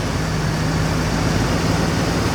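An engine idles in a 40-year-old car that has just been made to idle better, though it still runs imperfectly, making a steady low hum that holds constant throughout.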